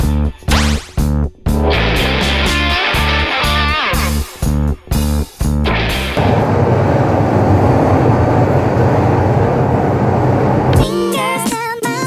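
A subway train ride toward Washington: rhythmic clacking of wheels over rail joints and a loud rolling rumble, followed by a sustained roar with high squeals near the end.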